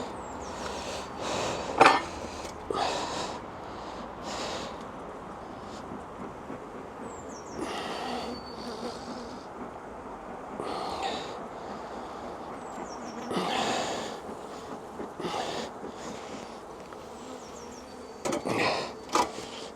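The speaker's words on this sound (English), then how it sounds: "So I'm going to try and shake these bees off." Honeybees buzz in a soft, continuous hum as they are shaken off a hive frame, broken by repeated knocks and rustling bursts of handling close by.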